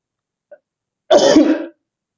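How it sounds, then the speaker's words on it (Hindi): A single short, harsh cough or throat clear, close and loud, preceded by a tiny faint sound in otherwise silence. "ये पाठ के समय ही खांसी होती है"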